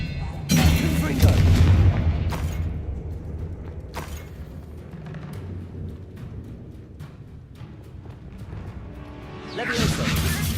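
A Confringo spell blast in Hogwarts Legacy lands as a loud, close, booming explosion with a crashing rumble that fades. A second burst swells at the end.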